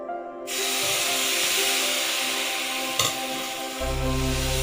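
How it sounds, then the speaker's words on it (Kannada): Aapam batter goes into a hot nonstick aapam pan and sets off a steady, broad hiss that starts sharply and holds. A faint bubbling runs underneath, and a low hum joins near the end. "ಇದಕ್ಕೆ ನಾನು ಆಪದ ಹಿಟ್ಟನ್ನು ಹುಯ್ತಾ ಇದ್ದೇನೆ."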